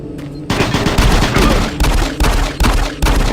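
A shotgun fires repeatedly in the VR game Doom 3 BFG, loud booming blasts arriving in quick succession, about five shots in just over three seconds with no talking.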